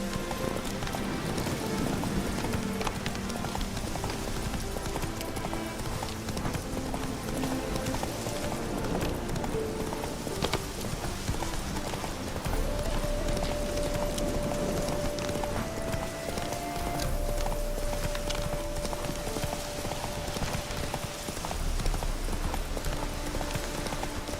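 Horse hooves galloping in The Witcher 3, a fast steady clip-clop close up over a constant bed of ambient game sound and music, with a brief low voice early on.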